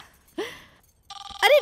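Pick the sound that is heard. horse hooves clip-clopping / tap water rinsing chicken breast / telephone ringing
telephone ringing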